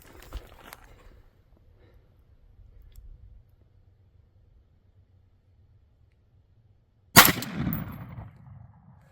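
A single sharp, loud 5.56 rifle shot fired at a body armor target, cracking after several seconds of near silence and trailing off in a short outdoor echo.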